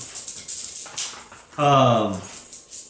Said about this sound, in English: there goes the puppy